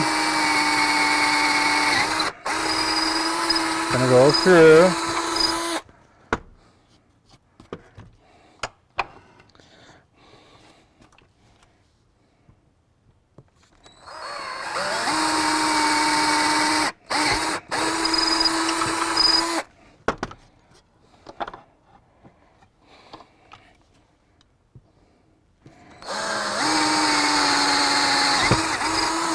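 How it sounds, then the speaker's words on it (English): A power drill with a 5/8 bit whirs loudly in several long bursts, boring holes in a cigar box guitar, each running a few seconds, separated by quiet gaps with faint clicks and a few spoken words. "okay, let me get my drill. Get the drill here."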